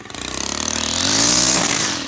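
A high, buzzing motor revs up and holds steady, a whining small engine running close by with a harsh, raspy edge, like a trimmer line cutting.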